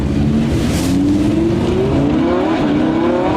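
Lamborghini Huracan LP 610-4 accelerating hard in Corsa mode, its engine note climbing loudly and steadily through the gears with a brief dip at a shift, close and continuous with no talk.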